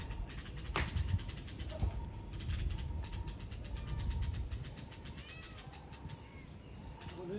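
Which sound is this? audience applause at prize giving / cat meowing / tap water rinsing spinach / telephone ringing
cat meowing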